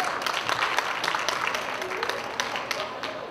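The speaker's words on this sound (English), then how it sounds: "Give her a big round of applause." Audience applause at a student political forum, a steady wash of clapping with crowd noise and some voices mixed in, sustained and fairly distant throughout.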